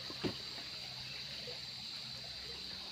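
A creek lined with riprap in a rural farm lot in Magdalena, Laguna, running muddy after rain, gives a steady, faint trickle of flowing water with a soft, brief splash near the start.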